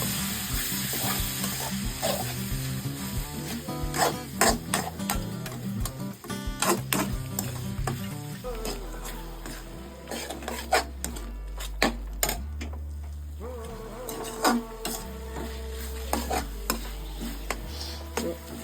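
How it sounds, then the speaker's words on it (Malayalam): A spoon scrapes and stirs food with chili sauce in a pan, with quick repeated clatters and scraping over a light sizzle, while a rhythmic low background beat runs underneath. "കുറച്ച് ചില്ലി സോസ്, അതിനുശേഷം നന്നായിട്ടൊന്ന് ഇളക്കി കൊടുക്കാം."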